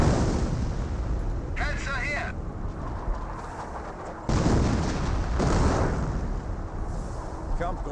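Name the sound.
artillery fire in video game Company of Heroes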